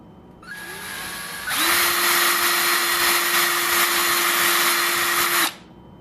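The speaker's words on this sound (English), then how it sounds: "we're just going to drill these center sections out" A power drill bores out the center sections of an acrylic enclosure panel. A lower idle whir gives way to a loud, steady high whine while cutting, held for several seconds, then stops sharply, close up.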